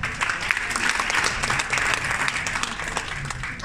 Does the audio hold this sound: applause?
yes